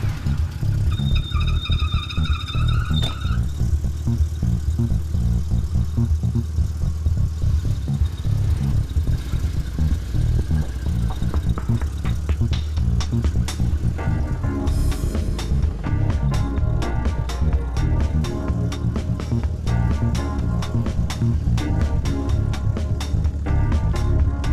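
A car engine, apparently fitted with a water-boost system, runs steadily and loudly for the whole stretch, with a dense mechanical drone and rapid ticking pulses and no talking.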